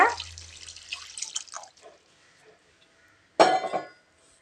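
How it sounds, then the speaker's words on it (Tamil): Water splashes into chicken liver curry in a pan. A close pouring slosh is followed by quiet, and then a second sharp burst of splashing. "ஒரு 2 டம்ளர் அளவுக்கு தண்ணி சேர்த்துட்டு நல்லா கிளறி விட்டுட்டு"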